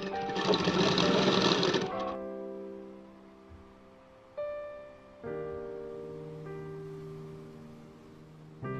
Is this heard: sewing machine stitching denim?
yes